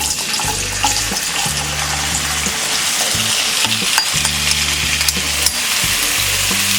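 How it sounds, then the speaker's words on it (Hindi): Peeled, chopped potatoes fry in a tablespoon of oil in a kadai over a medium flame, a loud, steady sizzle running throughout with a low repeating hum and occasional clinks and scrapes of stirring. "इसे मीडियम फ्लेम में फ्राई करेंगे।"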